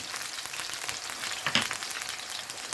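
Beef searing in oil in a pan before going into a slow cooker, a soft continuous sizzle with a brief louder spit midway.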